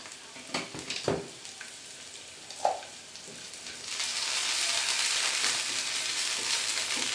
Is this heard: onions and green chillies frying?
yes